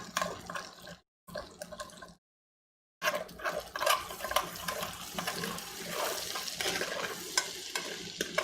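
Bits are scraped and stirred off the bottom of a frying pan while making chicken tikka masala, giving moist, sizzling scrapes in short bursts, then two silent gaps, then a longer stretch of continuous scraping and stirring.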